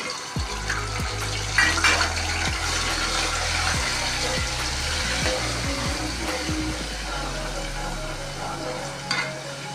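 Garlic-ginger paste frying in a pan, with a steady sizzle running throughout and intermittent scraping and stirring knocks from a spoon, close up with no talking.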